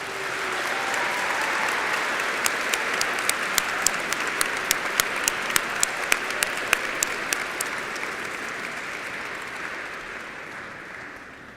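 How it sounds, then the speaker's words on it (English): An honors convocation audience applauds college fellows with sustained, even clapping that swells and then slowly fades, and a few sharper claps stand out near the middle. "Please give our college fellows a round of applause."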